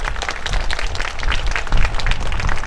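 A crowd at a school annual day claps for the teachers, a near, uneven burst of hand clapping with bumpy swells and some low rumble, no voices over it.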